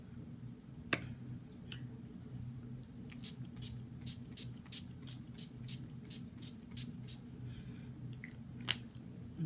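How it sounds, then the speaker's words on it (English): A matte makeup setting spray is misted onto a face in a quick series of about a dozen short spritzes, close and fairly quiet, over a faint background hum. "I'm going to first spray my face first."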